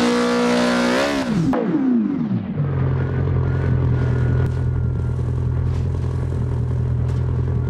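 A McLaren P1 in a racing video game revs high, then its engine note drops sharply and settles into a steady, loud, rumbling drone while the car drives across water.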